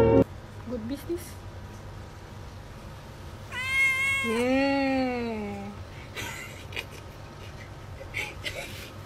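A cat gives one drawn-out, clear meow with a rising and falling pitch, close and loud over quiet room noise, while people talk around it.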